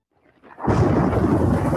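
Thunderstorm sound effect in a radio advert about spring and summer storms in the Ozarks: a faint rumble builds, then a loud sustained roll of thunder with heavy rain noise continues to the end, no voices.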